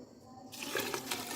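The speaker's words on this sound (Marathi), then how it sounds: "याच्यामध्ये आता आपण पाणी टाकून घेऊ" Drinking water is poured into a large container of cleaned wheat for making kurdai. After a brief quiet start, a steady, close splashing pour runs continuously to the end.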